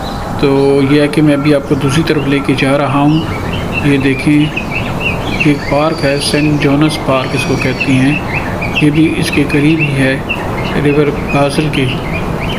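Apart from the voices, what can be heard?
birds singing in a park in Basel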